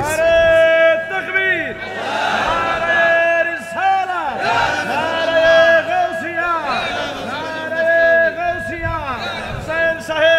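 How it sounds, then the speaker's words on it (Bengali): A large crowd at an Islamic religious gathering chants slogans in loud, rhythmic unison, with repeated rising and falling phrases from many voices filling the space. "স্লোগান দেয়।"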